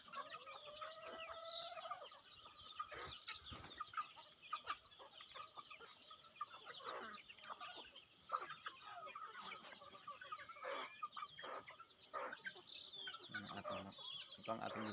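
Chickens on a farm at morning feeding time, with steady clucking from many birds, occasional crowing roosters, scattered pecking and rustling, and a constant high insect or bird drone in the background.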